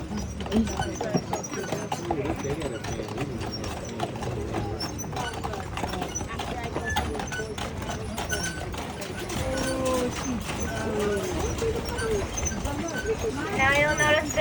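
Horse-drawn carriage on Mackinac Island pulled by three horses, with hooves clip-clopping steadily at close range, a voice talking over them and bird calls appearing near the end.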